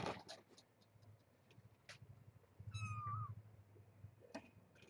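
A young kitten gives a short, rising meow at close range in a quiet home in the morning, amid faint rustling and light tapping, with a brief voice heard just before.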